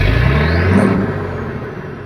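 Mitsubishi 6M70 truck diesel engine with low power and an EGR fault, a brief close rev rising then settling into a steady rumbling idle.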